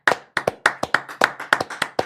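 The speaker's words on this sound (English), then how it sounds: "want to give you a round of applause." Clapping from just a few hands during a 24-hour live stream, close and crisp, with about a dozen sharp claps in an uneven rhythm and no talking.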